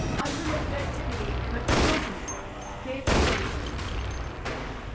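Pistol gunfire in the video game Dead Effect, two loud sharp shots spaced apart with quieter background game noise around them.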